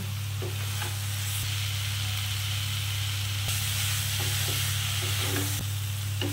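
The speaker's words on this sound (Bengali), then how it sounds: "কমিয়ে বাড়িয়ে মিনিট 5 ধরে এটাকে কষবো, যেন পেঁয়াজ রসুন আদার যে কাঁচা গন্ধটা সেটা যতক্ষণ না যাচ্ছে আমি ততক্ষণ কষবো" Onion, garlic and ginger masala frying in a pan for an Alu Patal Chingri curry, a steady close sizzle with a low hum beneath and occasional stirring scrapes and taps, no talking.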